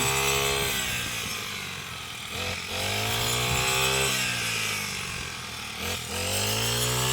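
A grass cutter machine rigged to cut rice runs loudly nearby, its small engine whining and rising and falling in pitch as it revs and bogs down through the stalks.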